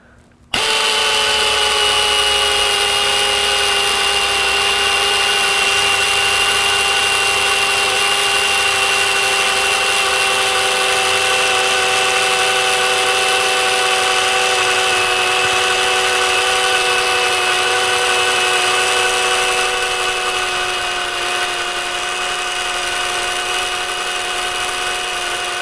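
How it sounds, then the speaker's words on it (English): A power drill boring into metal with a drill bit that has not yet been sharpened, a loud, steady high-pitched whine with a grinding edge running continuously and close, building slightly toward the end. "whenever you're drilling into metal like this, you really want to add some lubricant"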